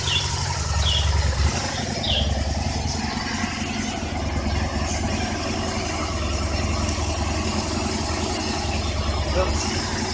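An Aprilia RSV1000RR Factory V-twin motorcycle engine idling after an oil drain service, a steady low throb held at a constant level with faint chirping birds in the background.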